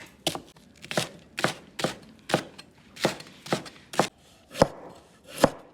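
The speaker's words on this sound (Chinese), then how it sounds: "切点葱姜，" Scallions and ginger being chopped with a knife on a board while preparing a spicy pork bone dish: about ten sharp, evenly spaced chops, close and clear, with no talking.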